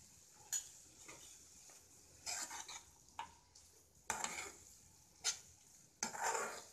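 A spatula stirs safflower leaf bhaji with crushed peanuts in an open pan: intermittent scraping and clattering strokes against the metal over a faint sizzle, fairly quiet and close.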